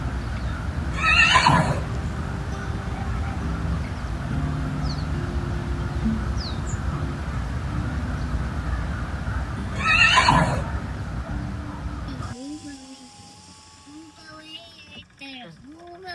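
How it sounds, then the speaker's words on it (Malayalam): Horses near Knock Basilica in Ireland, with two loud whinnies about eight seconds apart over steady outdoor background noise and faint hoof clops; after twelve seconds the scene turns quieter, with birdsong. "അപ്പോൾ അവിടെ അടുത്ത് തന്നെയായിട്ട് നല്ലൊരു കുതിര നടപ്പുണ്ടായിരുന്നു"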